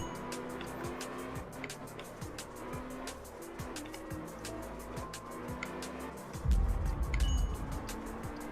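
A car in the top-down video game Absolute Drift slides around a circuit, engine droning continuously with squealing tires, and a louder rumbling burst near the end as it hits the wall.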